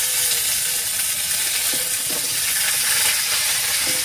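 Cut stems and eggplant go into a pan of simmering snakehead (shol) fish curry with potatoes, giving a steady, loud sizzle and frying hiss with a few soft stirring clicks throughout.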